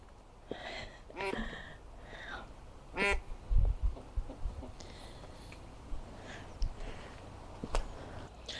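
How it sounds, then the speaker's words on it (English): Ducks quack in scattered bursts close by at a seaside village in winter, several calls spaced irregularly over soft outdoor ambience. "Lots of ducks over here."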